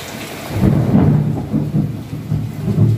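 Heavy rain with rolling thunder in Muscat, Oman, a dense steady wash of rainfall overlaid by deep, loud rumbling swells of thunder that surge and fade.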